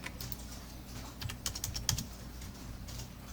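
Quick, uneven clicks of typing on a computer keyboard while modeling in SketchUp, close and fairly soft, with no voices.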